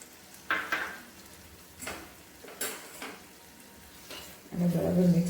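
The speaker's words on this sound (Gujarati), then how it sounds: "પેસ્ટ એડ કર્યા બાદ આપણે શાકને થોડી વાર માટે હલાવતા રહીશું." A spoon stirs a thick cashew curry with freshly added paste in a pan, making soft intermittent scrapes and taps over a quiet background. A louder burst of bubbling and stirring arrives at the end.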